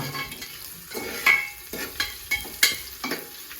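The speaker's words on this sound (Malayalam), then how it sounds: "ഓണിയൻ സ്ലൈസ് ഇങ്ങനെ ഇളക്കി കൊടുക്കണം കേട്ടോ" Sliced onions frying in a pan for Kerala ghee rice, stirred with a metal spoon: a soft sizzle under several sharp scrapes and clinks against the pan, close and uneven.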